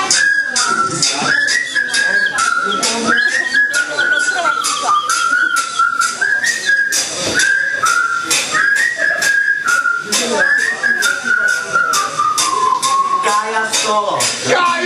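Whistling at a party or celebration, a wavering melodic tone that rises and falls continuously over a dense, loud backdrop of crowd noise and music, with voices talking throughout.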